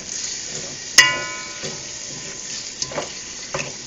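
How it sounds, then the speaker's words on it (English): Brown stew chicken sizzling in a pot while being stirred, a steady frying hiss with a sharp spoon clank near the start and a few soft scrapes later, close and alone without talk. "I'm just gonna stir that up."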